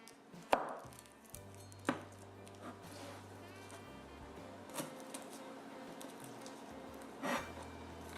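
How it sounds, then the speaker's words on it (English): A cleaver dices garlic in a home kitchen, with a few sharp, separate chops landing several seconds apart over a low steady background hum. "we diced up the garlic, and we use a cleaver to separate the skin from the garlic"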